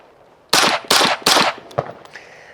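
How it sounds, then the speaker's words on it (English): A 5.7 firearm fitted with a Shadow Silencers Duo Duo suppressor fires three rapid, loud, close shots in succession, each keeping a sharp crack, followed by a fainter click or two and a brief hiss. "Try a few more shots."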